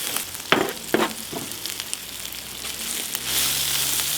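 Onions frying on a braai grill, with a continuous sizzle that swells toward the end and a few sharp utensil taps and scrapes near the start. No voices.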